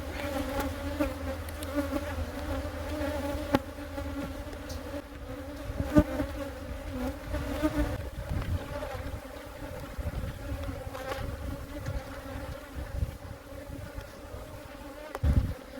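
Honey bees buzz steadily and close around an open hive, forming a dense droning hum with individual bees flying past, alongside occasional light knocks from handling.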